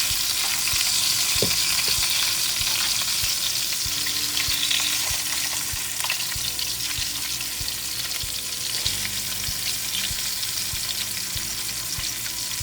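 Chicken fries in a hot pan with a dense, steady sizzle and crackle, punctuated by occasional light pops and stirring clatter, close and loud, with no one talking.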